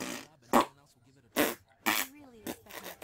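A fart-like burst, several short loud blasts spaced through a few seconds, likely a voice imitating flatulence amid quieter murmuring.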